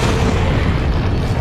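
Grenade blast in Resident Evil 4, a loud dense boom with a rumbling low wash that holds for the short stretch and fades only slightly.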